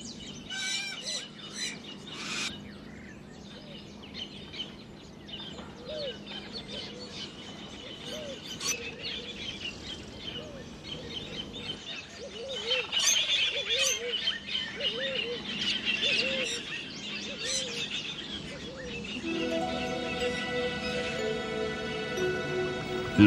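Wild birds sing and chirp at Lake Baringo in Kenya, with many overlapping calls and whistles continuing throughout at moderate distance, growing denser and louder toward the end.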